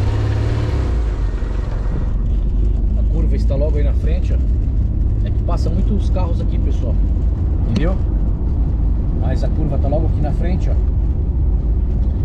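A car on a curved road near an old slaughterhouse, its engine rumble audible throughout as it approaches, while someone talks over it at close range for most of the time.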